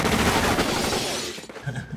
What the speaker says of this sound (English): All the shooting.